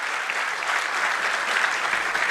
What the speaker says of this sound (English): please give a welcome round of applause again to Shri Mehra ji